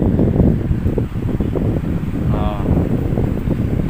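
A repaired electric fan runs loud and steady, its blades pushing a broad, windy rushing roar close to the microphone, with someone talking over it.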